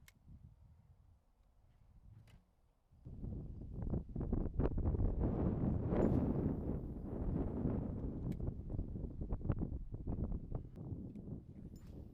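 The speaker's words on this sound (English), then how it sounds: "If that wind died down, it'd be pretty nice out here." Gusty wind buffets the microphone beside a prairie lake, a low roaring rumble that swells after a quieter start and stays strong and close, with occasional faint knocks.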